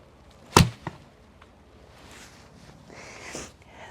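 A recurve bow, a Léda Lida drawn at 36 lb to 28 inches and shot with a leather thumb ring, releases one sharp, close snap with a quick thud. Faint rustling and movement follow.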